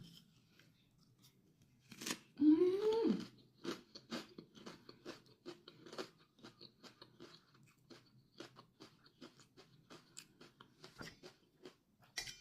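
Crunchy bites and chewing of raw onion spread with cream cheese, close and fairly loud, with a burst of heavier crunching early on followed by many short, irregular chewing clicks.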